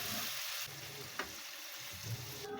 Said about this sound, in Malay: Guna minyak goreng udang tadi ditumis bahan kisar tu ya, serai ketuk, bawang potong dan cili kisar ya.